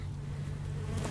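A bee hovers at a nest hole in the ground, giving a steady, close, low droning buzz that holds throughout without pause.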